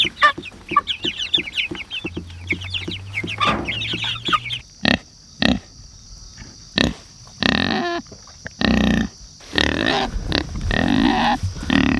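Pigs on a farm grunt and squeal in a busy, close chorus, joined by clucking chickens, then give way to several loud bursts of clattering and banging like barn activity, with no talking.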